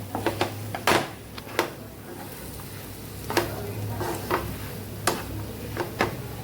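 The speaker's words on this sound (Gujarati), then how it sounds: "બધું આપણે સરસ મિક્સ કરી લેવાનું છે" Spatula stirring spiced samosa potato filling in a pan, irregular scraping taps and soft clacks over a low sizzle, close and unhurried with no talking.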